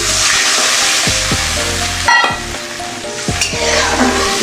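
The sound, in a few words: water added to sizzling spiced oil for fish curry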